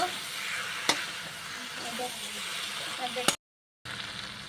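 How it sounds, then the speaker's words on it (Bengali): Boiled jackfruit and boiled potato sauté with turmeric in a pan, a soft continuous sizzle and hiss with a couple of sharp clacks of a utensil, then a brief silent gap before the frying resumes. "সিদ্ধ কাঁঠালটা, আলুটা সিদ্ধ সব দিয়ে দিলাম, দিয়ে কষায় নেব।"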